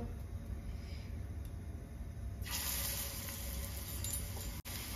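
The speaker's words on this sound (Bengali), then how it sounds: "তেলটা গরম হয়ে গেছে, এরপর আমি ভেজে নেব ছোট ছোট করে।" Bottle gourd pakoras drop into hot oil, and a bright, hissing sizzle suddenly swells partway through and holds steady, with a faint clink near the end.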